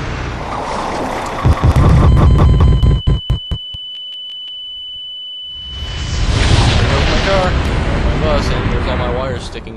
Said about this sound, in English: So the bomb explodes.